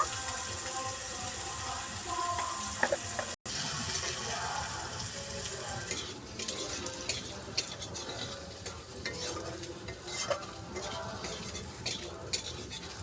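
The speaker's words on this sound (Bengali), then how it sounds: "বন্ধুরা, প্রথমে আলুটা ভেজে নেব।" Potatoes seasoned with salt and turmeric fry steadily in a pan, a continuous sizzle broken by scraping stirs near the mic, with no talk.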